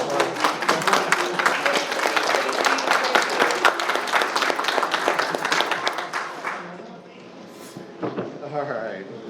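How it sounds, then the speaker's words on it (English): A crowd in a city council meeting gives a round of applause, loud dense clapping for about six seconds that then fades into scattered claps, murmurs and voices. "stand up again so we can give them a round of applause"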